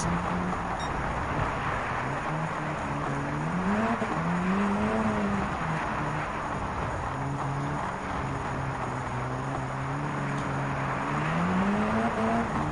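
Land Eagle X Gr.B rally car racing in Gran Turismo 7 on a Barcelona rallycross stage, its engine droning loud and close with rising and falling revs through gear changes and a rough gravelly tyre hiss underneath.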